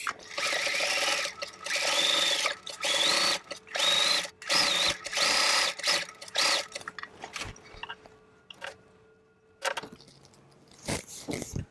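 A sewing machine runs in repeated short bursts while stitching an elastic casing on doll pants, the motor whirring loud and close with brief pauses between runs, then quieter handling noises near the end.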